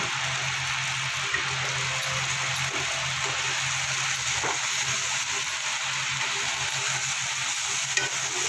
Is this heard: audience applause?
no